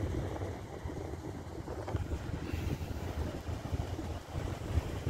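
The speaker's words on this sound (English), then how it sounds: "Man, this wind's too bad." Strong outdoor wind buffets a microphone on a city sidewalk, producing a constant low, rumbling roar that fills the whole stretch with no voices.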